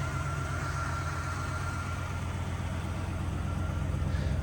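A 1992 Cadillac Allante's 4.5 V8 engine idles smoothly and steadily, a low, even rumble heard close up and alone without voices.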